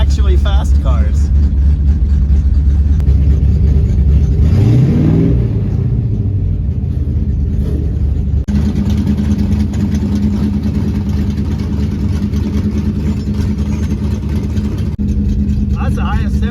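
A 1971 Dodge Demon 340 engine rumbles at idle close by in hot weather at a drag strip, with a rising rev partway through, while a person talks over the steady low drone.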